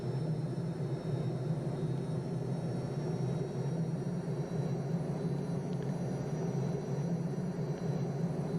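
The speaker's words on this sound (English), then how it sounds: "And the blades are starting their rotation slowly in the beginning, and smoothly I add some throttle." SA315B Lama helicopter turbine starting up before a Mont Blanc flight, a steady droning rumble with a faint high whine. The rotor blades begin turning slowly and the throttle is eased up, heard close and continuous.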